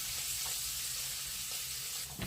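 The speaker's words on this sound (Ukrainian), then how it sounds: "Ось сало майже розмажилось. І це ми будемо смажити на великому вогні." Pork fat (salo) frying in a pan over high heat gives a steady, close sizzling hiss that runs unbroken through the whole stretch, with no voices.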